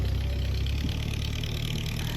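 Tractor plowing a watermelon field, its engine a steady loud rumble close by, continuous and unbroken throughout.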